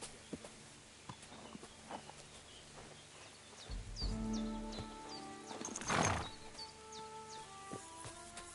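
A horse in the video game Kingdom Come Deliverance 2 clip-clops with slow hoof steps and then gives a loud, close neigh. Light birdsong chirps in the background of an outdoor setting.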